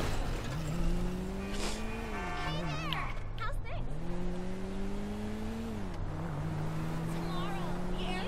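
A car driving in GTA V: the engine revs up and down through gear changes, and there are a couple of brief tire screeches, while someone talks over it in German.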